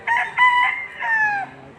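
Rooster crowing once at a Tuesday chicken market in Padre Garcia, Batangas, a loud, close, harmonic call with a broken start and a long drawn-out final note.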